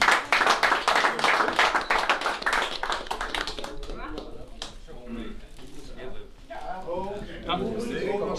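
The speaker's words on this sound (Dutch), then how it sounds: "Voor Bartle graag een applaus." A small group claps briskly for a few seconds in honour of a man named Bartle at a farewell for an old windmill, the clapping thinning out as voices begin talking over it.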